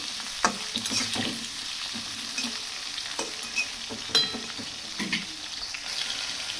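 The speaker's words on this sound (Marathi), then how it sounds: "नंतर टाकायचे टोमॅटो नंतर चांगलं असं परतून घ्यायचं" Tomatoes being sautéed in a pan: a soft continuous sizzle broken by repeated scraping stirs of a utensil, close and moderately loud, with no talking.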